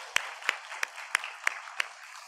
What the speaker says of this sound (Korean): 오늘도 이 새벽에 이 자리에 있게 하신 우리 하나님께 영광의 박수를 올려드리겠습니다.